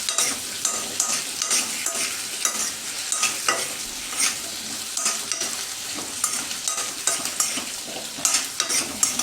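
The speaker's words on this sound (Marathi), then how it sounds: "त्याच्यामध्ये आपण त्याला काशी भोपळा चांगला तुपामध्ये फ्राय करून त्याला आपण बॉईल करून घेणार आहोत" Pumpkin pieces fry in ghee while being stirred in a pan, a steady bright sizzle broken by frequent scraping and clinking strokes of the spoon, close and fairly loud throughout.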